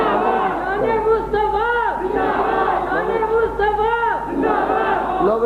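Children in a crowded mosque chant slogans together, loud overlapping young voices rising and falling in repeated rhythmic calls that fill the hall.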